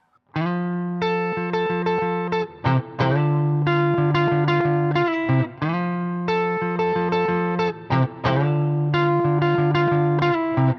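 Distorted electric guitar playing a repeating two-note picked riff over a steady chord, loud and continuous with brief breaks between phrases.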